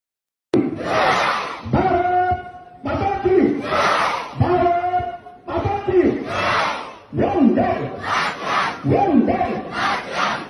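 A large crowd at a political gathering chants Bharat Mata ki Jai and Vande Mataram in loud, rhythmic call-and-response bursts, each phrase shouted in unison with brief gaps between, close and dominant throughout.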